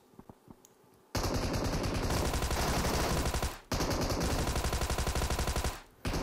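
A Tommy gun fires in a battle royale shooter game, two long rapid automatic bursts with an even, loud rhythmic rattle and a short pause between them, after a few softer clicks and taps.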